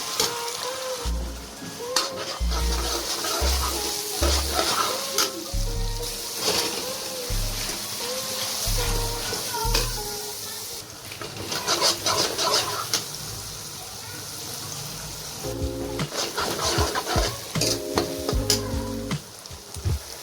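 Onions frying in a pan with already-roasted garlic and ginger, a steady sizzle broken by repeated scraping stirs, close and moderately loud, with a voice talking at times over the cooking.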